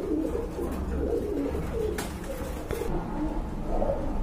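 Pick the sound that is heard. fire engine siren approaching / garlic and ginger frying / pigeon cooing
pigeon cooing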